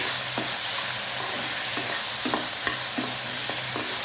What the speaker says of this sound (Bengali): ভালো করে মিশতে নিচ্ছি